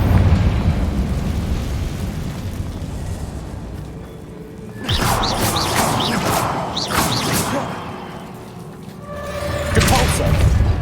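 The Confringo fire spell in Hogwarts Legacy goes off in loud booming blasts with crackling bursts, one long burst midway and another near the end, over a rumbling background with voices.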